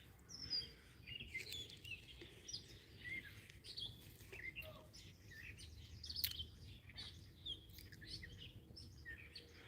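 Outdoor birdsong fills a calm day: bright, rapid chirps and short warbled phrases repeat from several birds over low ambient rumble, fairly faint and steady throughout.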